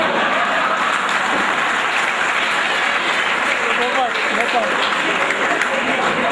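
Loud, dense applause from a live audience at a Hindi-language stage performance fills the whole stretch, with a voice speaking faintly over the clapping.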